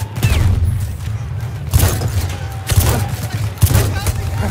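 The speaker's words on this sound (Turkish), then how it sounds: "Şöyle bomba atayım." Bomb explosions go off in the Battlefield 1 video game, with several heavy booms about a second apart amid rattling gunfire and battlefield clatter, loud and close.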